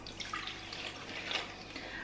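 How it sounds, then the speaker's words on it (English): Tap water runs into a plastic wipes box, a steady, soft hiss and splash at low volume that continues without a break and with no talking. "is again fill it up with some water"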